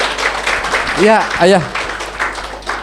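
A studio audience claps continuously at a spiritual talk, a dense steady patter throughout while a man calls out briefly over it.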